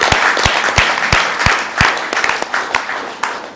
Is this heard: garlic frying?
no